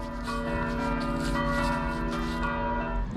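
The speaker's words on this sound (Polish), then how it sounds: "Ale się panie, rozdzwonili dzwony." Church bells ring out together in a dense, continuous peal, loud and resonant, overlapping tones sustained throughout with no voices.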